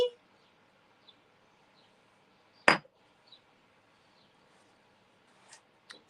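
A small clear glass double holder being handled: one sharp glassy clink stands out amid a few faint taps and knocks in a quiet room.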